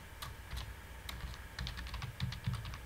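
Typing on a computer keyboard while entering code, a steady run of quiet, close key clicks with a few louder taps, alone and without talk.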